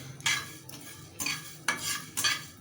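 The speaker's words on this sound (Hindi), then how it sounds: "ये मैं साबित धनिया जो भून रही हूँ" Whole coriander seeds are dry roasted in a pan, heard close up as four soft bursts of rattling and scraping as they are stirred, with quiet gaps between the strokes.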